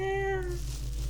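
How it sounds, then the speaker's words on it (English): A cat meows with a drawn-out, pitched cry in the first half-second, then fades into a low steady hum from a close microphone in a quiet indoor setting. "How do you meow like that?"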